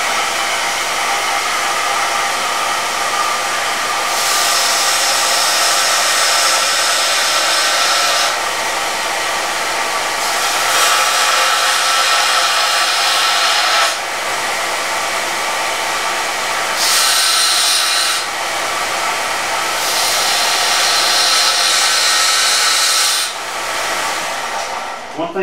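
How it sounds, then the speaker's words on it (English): A belt sander fitted with a ceramic belt grinds metal in a garage, a loud continuous whir with repeated bursts of harsher hissing grinding as the metal is pressed against the belt and pulled away. "let me touch on my belt sander real quick"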